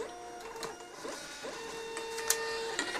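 Printer printing a priority mail shipping label: a quiet mechanical whirring feed with a sustained tone, faint clicks and a small clack near the end, close and alone without talk.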